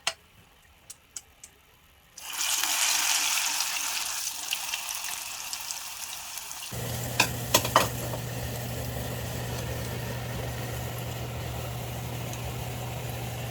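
After a quiet start with a few light clicks, battered mugwort hits hot oil and sizzles loudly and steadily, deep-frying until the coating turns lightly golden, and a low hum joins midway.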